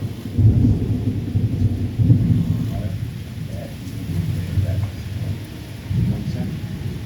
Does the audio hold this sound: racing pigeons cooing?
no